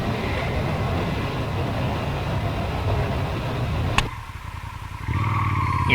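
A Ducati Monster motorcycle being ridden, its engine a steady rumbling drone with wind noise. A sharp click cuts the sound to a quieter stretch before the engine hum comes back.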